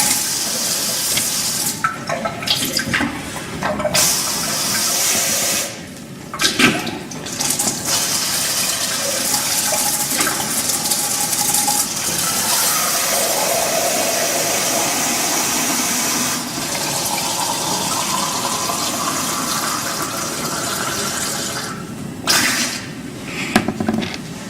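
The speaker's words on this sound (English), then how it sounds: "we are going to triple rinse our PET 500 with tap water" Tap water runs steadily as a PET 500 bottle is triple rinsed, a continuous gushing and filling sound with brief pauses and bursts of splashing, fairly loud and close, with no talking.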